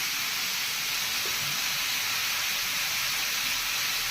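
Tomato with salt and spices sizzles in a hot pan, a soft, steady frying hiss that continues evenly throughout with no talking.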